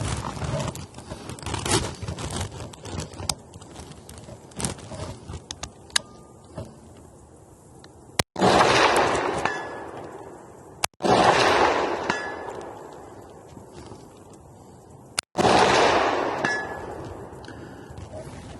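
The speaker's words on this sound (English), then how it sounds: "So we just talked about the 308, the build. Let's go ahead and shoot it." A .308 DMR rifle fires on an outdoor range at targets 300 yards out: three loud, sharp reports at uneven intervals, each followed by a decaying echo, with quieter rustling and handling clatter before the first shot.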